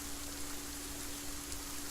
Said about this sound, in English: now it sounds like rain